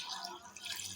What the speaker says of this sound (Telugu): ఇక చల్లటి నీళ్ళు పోసుకోవాలి